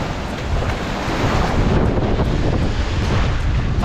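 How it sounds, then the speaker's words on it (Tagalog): Strong wind buffets the microphone at sea in a steady, loud roar of rumbling gusts that continues without a break, with no voices. "Lakas ng hangin, oh."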